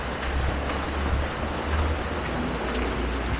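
Rain falls steadily along a seaside boulevard as an even, broadband hiss with a low rumble underneath. Nobody speaks.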